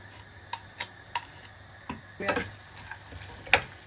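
Semolina roasting in ghee, stirred with a spoon in a pan: sparse scraping taps and clicks at irregular intervals over a low, faint sizzle, close and quiet, no voices.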